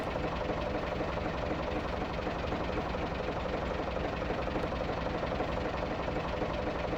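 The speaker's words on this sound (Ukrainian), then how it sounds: "Ми їдемо на тракторі." Tractor engine rumbling steadily while driving along a foggy road in the horror game Mist, a dense continuous drone filling the whole stretch with no talk over it.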